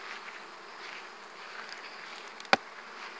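Honeybees from this year's swarm buzzing at a hive, a soft continuous droning hum with a sharp click or knock near the end; no talking.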